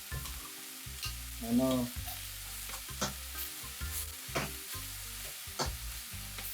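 Beef pieces sear in a pan for a stew and are flipped one by one. A steady sizzle runs under repeated clicks and scrapes of a utensil, and a voice briefly speaks over it.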